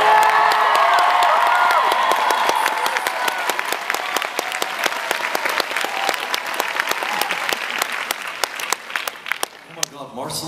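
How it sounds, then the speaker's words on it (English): Crowd at an Adventure Time and Steven Universe panel at San Diego Comic-Con 2015 applauding loudly with cheers and whoops, the clapping thinning gradually toward the end while a voice speaks over it. "Deserves a little more applause than that."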